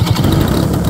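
A small gas engine, an EPHIL 123 Pro on a 104-inch Pilot Edge-540 RC plane, runs loud and close with a steady, rough buzz throughout.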